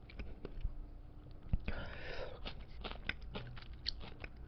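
Soy-garlic fried chicken bites being chewed close up, a quiet series of soft crunches and moist bites with a brief louder crackle midway.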